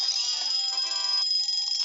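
A timer alarm rings in the video game Papa's Cheeseria To Go, a steady electronic ringing tone held for about two seconds at even loudness, with no talking over it.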